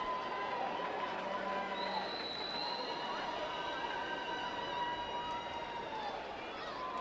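A crowd at a Texas high school baseball state semifinal makes a diffuse, steady hubbub with scattered shouts and whistling cries at a distance across the stadium.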